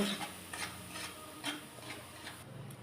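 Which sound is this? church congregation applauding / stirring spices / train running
stirring spices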